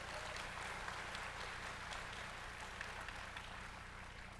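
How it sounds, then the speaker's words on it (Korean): Congregation applauding during a church service, a dense, steady wash of clapping that stays even and fairly distant throughout. "우리 큰 박수로 그분들을 격려해 주시기를 바랍니다"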